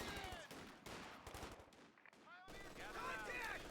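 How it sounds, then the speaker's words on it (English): Bursts of MG42 machine gun fire from Company of Heroes 2 cut down riflemen, rapid rattling volleys in short strings under battlefield noise, with a commentator talking over parts of it, faint overall. "Rifleman getting punished by the MG42"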